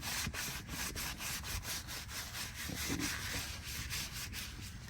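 Towels rubbing and wiping a filthy, grease-covered Milwaukee M12 impact driver, giving steady scrubbing strokes in a repeating rhythm, close and moderately loud with no talking.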